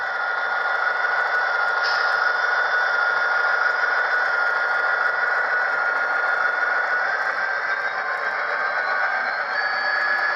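An N scale Broadway Limited SD40-2 model locomotive's onboard sound plays a steady diesel engine drone with a thin, tinny speaker tone, rising slightly in pitch as it climbs a layout hill, with no voices.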